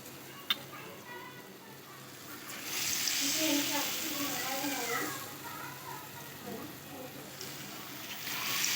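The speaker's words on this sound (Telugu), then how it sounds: "ఇప్పుడు వచ్చేసి మనం ఆలు బజ్జీలు వేసేద్దాం" Potato bajji fritters dropped into heated oil in a bowl on a stove set up a steady hiss of frying that swells after a few seconds and continues, with a person talking over it.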